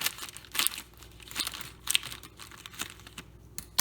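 A Tombstone Pizza Stix package is cut open with scissors, crinkling and tearing plastic in short irregular bursts of rustle and snip, close and fairly quiet.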